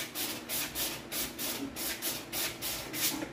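A resin part is rubbed against a sanding block in quick, even back-and-forth strokes, about seven rasping passes in a steady rhythm, close and fairly quiet with no talk.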